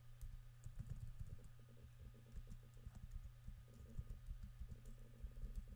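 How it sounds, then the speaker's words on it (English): Steady typing on a computer keyboard while a password is entered, with irregular, close clicking keystrokes that run throughout over a low constant hum and no talk. "I'm gonna type just my password."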